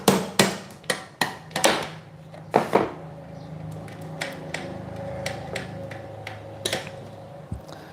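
A rapid series of sharp hammer strikes driving pegs into a camping table close up, slowing into a few lighter taps and clicks over a faint steady hum.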